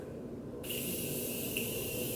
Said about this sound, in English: For setting spray, I'm using the Morphe Continuous Setting Mist.